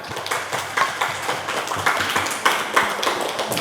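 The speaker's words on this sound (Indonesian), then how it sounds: "Ya, kasih tepuk tangan." Classroom clapping after a student group's presentation in an Indonesian school lesson, a run of quick, uneven hand claps from a small group, fairly close.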